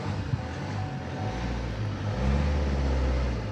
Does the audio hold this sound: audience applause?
no